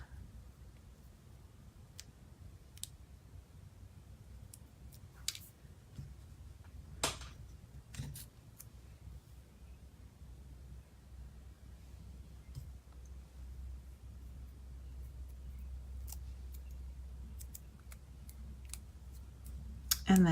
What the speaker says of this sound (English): I'm just trimming a little off the edge of this sheet of dimensionals.